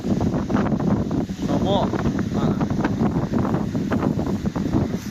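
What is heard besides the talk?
wind blowing outdoors in an orchard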